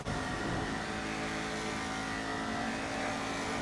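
Vapid Dominator ASP muscle car in GTA 5 revving hard and accelerating, a loud, continuous engine roar with rising tone that fills the whole stretch without talk.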